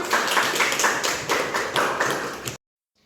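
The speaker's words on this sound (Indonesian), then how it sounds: "give applause for your friends" Classmates in a school classroom applaud together, a dense burst of many hands clapping at a steady rhythm for about two and a half seconds before cutting off abruptly into silence.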